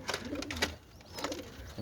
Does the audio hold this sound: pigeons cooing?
yes